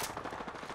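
Rapid gunfire in the video game Apex Legends, a dense burst of repeated shots filling the whole moment at moderate loudness, with no talk over it.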